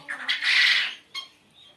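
Japanese quail on a laying farm of about 300 birds in Bakshiganj, Jamalpur, give harsh, squawking calls: one sustained burst, then a shorter call after a brief pause, fairly close and loud.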